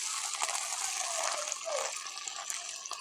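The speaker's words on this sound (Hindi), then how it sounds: "ऑयल जो है आपका इतना ही गर्म होना चाहिए, तभी जो फ़िश है ना वो अच्छी फ्राई होगी।" Fish pieces frying in hot oil on a tawa give a steady, close, broad sizzling hiss that continues without pause.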